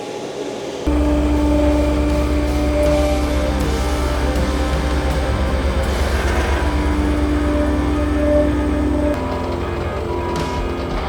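A vibratory soil roller runs steadily while compacting the top layer of ground for a large concrete pad. Its loud, continuous engine drone and vibration hum fills the clip, then lowers slightly near the end.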